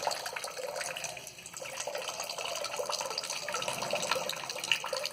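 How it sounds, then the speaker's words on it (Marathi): A stream of water pours from a vessel in a temple setting, a steady moderate splashing trickle that runs continuously without pause, with no voices present. "आता हे पाणी पूर्ण संपल्यानंतरच, भांडं रिकामं झाल्यानंतरच ही धार पाण्याची जी आहे ती थांबेल"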